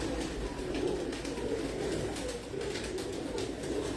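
Pigeons coo softly and repeatedly nearby, low rolling calls in a steady rhythm over a faint background hum, with no talking.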